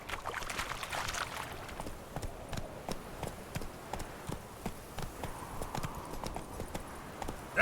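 Galloping horse in The Witcher 3: Wild Hunt video game, rapid rhythmic hoofbeats pounding steadily throughout at moderate loudness, with faint game ambience beneath.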